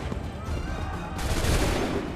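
Musket volleys in Assassin's Creed III at Lexington ring out as a dense, continuous burst of overlapping gunfire with booming low rumble, swelling louder midway through the clip.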